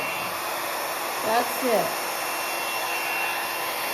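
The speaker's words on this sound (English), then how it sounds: "I put it directly on top of the paint, and I just mix it with my blow dryer" A blow dryer blows steadily across wet paint to mix it, a continuous airy hiss running throughout at an even level, with a brief voice speaking partway through.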